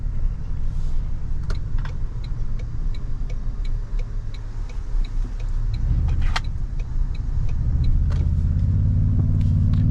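2024 Toyota Tundra TRD Pro engine heard from inside the cab while driving, a steady low rumble with a faint ticking overhead that swells into a deeper, louder drone toward the end.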